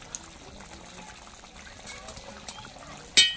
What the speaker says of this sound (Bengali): সঙ্গে দেব হাফ চামচ ঘি।